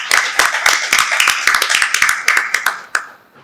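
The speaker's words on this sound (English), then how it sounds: "may I have a round of applause for him" An audience applauds a laparoscopic surgeon at a hospital-related awards event with brisk, fairly dense hand clapping that is close and loud, then thins out toward the end and fades to near silence.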